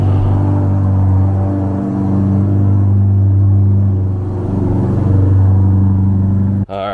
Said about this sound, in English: Let me get this car pulled out so I can show you guys the engine bay